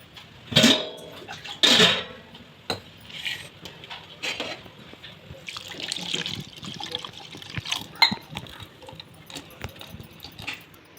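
Liquid poured into a hot pan of spluttering mustard seeds in oil while making drumstick leaf soup, with two sharp loud sizzling splashes followed by a softer, uneven crackle and bubbling that fades.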